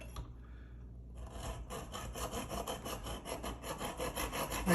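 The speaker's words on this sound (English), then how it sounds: "I'm gonna hold it and I'm gonna cut it just before the line" An arrow shaft is cut by hand with a saw in a run of rapid, rhythmic rasping strokes, close and fairly quiet, starting after a short near-silent pause.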